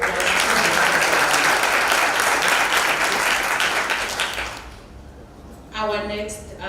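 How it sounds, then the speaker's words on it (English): An audience at a G20 symposium applauds a panelist, full clapping for about four and a half seconds that dies away, then a voice begins speaking. "Let's give a round of applause."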